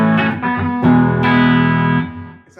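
A Harley Benton Fusion electric guitar on a clean tone with the bridge humbucker and the tone knob at half plays a few ringing chords, loud and close, with notes sustaining and fading at the end.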